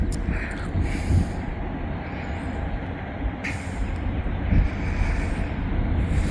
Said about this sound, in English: he's probably moving up from a dead stop, but it could be a one locomotive wonder